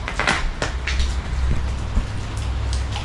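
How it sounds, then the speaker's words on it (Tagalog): Heavy rain pours down steadily and close by, a dense continuous hiss with scattered louder drops and knocks striking surfaces, building in strength, with no talking. "Lumalakas ang ulan mga kawerdo"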